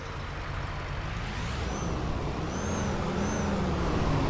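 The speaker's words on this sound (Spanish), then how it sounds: "Vamos a encender la máquina." A Volvo Marcopolo G8 1200 coach with a rear-mounted engine starts up in a driving video game, its low, steady rumble gradually swelling louder with no talking.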